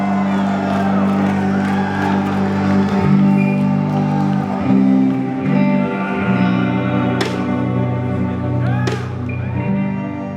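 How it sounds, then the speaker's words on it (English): A concert crowd cheers and sings along loudly, a dense wall of voices and shouts swelling and dipping over several seconds with a couple of sharp whoops cutting through. "energetic crowds, people raising their arms, people singing as loud as they can"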